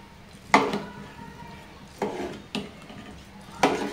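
Salt and ghee are stirred into dal khichdi in a pot, with four separate scrapes and clinks of a utensil against the pot spaced over a quiet background.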